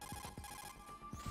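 A telephone rings in the Metal Gear Solid 2: Substance video game, quiet repeated electronic trills in a quick regular pulse, several short bursts over a faint steady tone.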